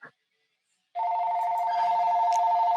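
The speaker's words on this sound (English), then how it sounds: "And then the phone rings." A telephone rings close by in a room where a podcast is being recorded, starting abruptly after a short silence with a steady, sustained electronic tone that continues unbroken.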